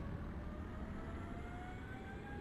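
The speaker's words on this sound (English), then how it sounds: "jet's just winding up." Jet engine spooling up in Microsoft Flight Simulator, a steady rumbling roar with a thin whine that slowly climbs in pitch, heard alone at a moderate, even level.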